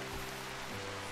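Rain in the video game RimWorld, a steady, even hiss of falling drops on surfaces, continuous through the short stretch with no voices.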